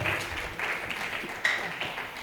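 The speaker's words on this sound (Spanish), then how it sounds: "Dale fuertes palmas de alabanza al que vive y reina para siempre." A church congregation claps in praise, a soft continuous patter of many hands with no clear beat. It comes from a room full of people, moderately loud, with a few sharper claps standing out.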